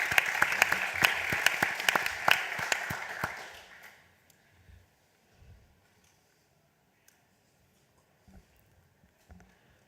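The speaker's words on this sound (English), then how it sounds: "Please, let's give them a warm round of applause." An audience at a trade and globalization panel event claps for a few seconds, fairly close, then the applause fades out into a quiet room with faint shuffling.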